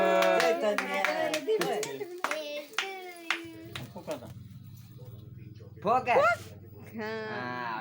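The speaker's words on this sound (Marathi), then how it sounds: "टाळ्या वाजवा." Hand claps break out at a family birthday celebration right after the song. A short burst of claps is mixed with overlapping chatter from children and adults, and the talk carries on after the clapping stops.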